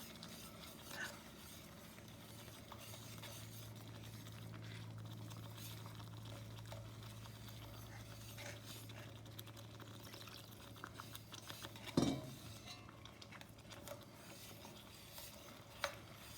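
A spoon stirs tomato paste into red sauce in a pot, giving a soft continuous wet scraping and gentle bubbling, with one louder knock of the utensil near the end and no talk.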